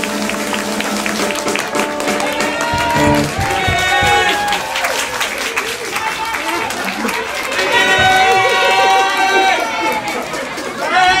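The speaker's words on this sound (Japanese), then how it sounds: "お拍手してください。" An audience applauds for a first-grade child singer at a performance before about a hundred people, a sustained wash of clapping mixed with crowd chatter and voices throughout.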